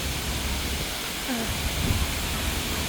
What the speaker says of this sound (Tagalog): Tingnan nyo yung falls dito sa Corfacan